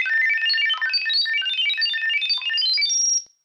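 A smartphone held near an Elari SmartBeat speaker plays a pairing sound, a rapid stream of bright, shifting electronic tones lasting about three seconds before cutting off, heard alone and close.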